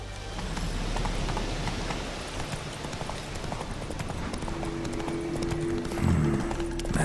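Horse hooves galloping steadily in a rhythmic clip-clop in The Witcher 3, loud and close over ambient game sound, with a low musical tone rising near the end.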